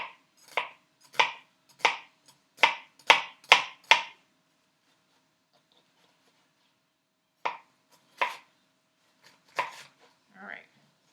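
A knife chops through an onion on a cutting board in a quick run of about eight sharp, evenly spaced strokes, then a pause and a few scattered cuts, close and crisp with almost nothing behind them.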